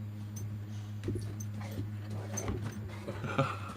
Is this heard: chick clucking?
no